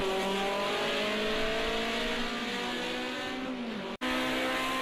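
A 1973 BMW 2002 race car in Project Cars 2 roars loudly and steadily throughout, its engine note sliding down under hard braking into a corner, with a brief dropout near the end before the engine resumes.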